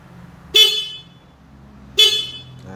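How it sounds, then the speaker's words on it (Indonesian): Two short honks from the stock horn of a Yamaha Mio M3 scooter, close and sharp, separated by about a second and a half of quiet. "saya akan memperdengarkan dulu suara klakson sebelum menggunakan relay. Ini klakson bawaan Mio M3."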